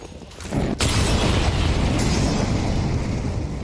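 An incendiary grenade bursts in Counter-Strike 2 during a tournament match: a sudden whoosh, then a loud, sustained roar of flame that holds steady, with no voices.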